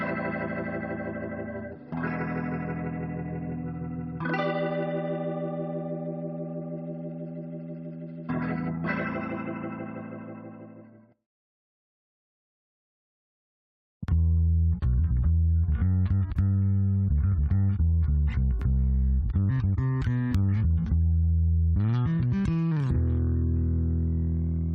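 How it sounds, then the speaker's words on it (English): Electric guitar chords run through a Leslie rotary speaker simulation ring out with a swirling, wavering tone, stop after a brief silence, then return as a denser, driving riff. "this guitar, which ran through a Leslie simulation"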